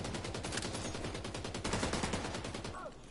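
Rapid automatic gunfire from the shooter game The Division 2 rattles in dense, continuous bursts throughout, fairly loud and close.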